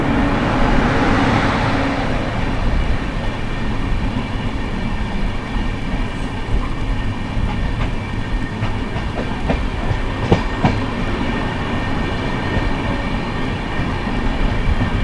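Indian Railways trains at Howrah station in Kolkata, including the 12833 Ahmedabad–Howrah Superfast Express standing nearby, a loud continuous rumble of rolling stock with faint clickety-clack and metallic clanks, no talking.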